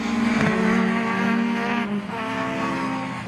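Race cars passing at Anglesey circuit, including a V6 Ford Sierra XR4i, their engines droning loud and close with a pitch shift as they go by, followed by a second engine note.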